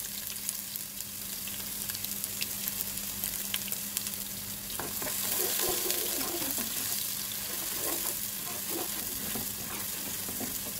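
Onion fries in hot oil with bay leaves, a cinnamon stick, green cardamom and green chili for a Pakistani cauliflower dish. A continuous close sizzle grows a little louder partway through, with faint stirring and clatter, and no talking.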